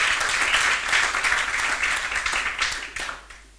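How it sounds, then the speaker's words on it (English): Audience applause at a University of Johannesburg School of Tourism and Hospitality celebration, a lively burst of clapping that stays strong briefly, then breaks into scattered claps and dies away. "Let's give Sir Saul a round of applause."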